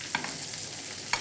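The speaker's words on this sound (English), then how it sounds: "we're just gonna start basting them with the butter" Scallops are basted in a pan with butter and thyme: a soft, steady sizzle broken by two brief spoon clinks, one near the start and one near the end.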